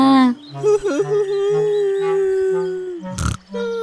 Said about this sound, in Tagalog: Sa lakas ng pag-atungal ni Piggy